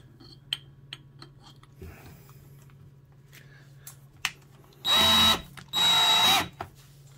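A DeWalt 36V Nano lithium 1/2-inch hammer drill from the mid-2000s spins up in two loud, close bursts of whirring motor, about a second each, after a few quiet clicks and taps.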